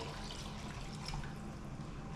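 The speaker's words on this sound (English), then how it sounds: "this is about almost 1 liter of water. I'm gonna go ahead and throw that in there." About a liter of water is poured into a pot for a Creole filé gumbo with shrimp, chicken, sausage and crawfish. The pour is a soft, steady rush that stays even throughout, with no talking.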